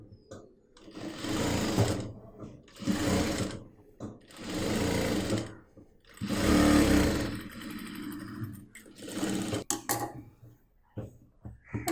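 A sewing machine stitches the neck of a churidar top in several loud, close bursts of rapid whirring, each lasting a second or two, with short silent pauses between them.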